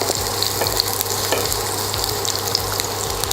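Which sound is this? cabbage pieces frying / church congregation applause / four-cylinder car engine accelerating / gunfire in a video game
cabbage pieces frying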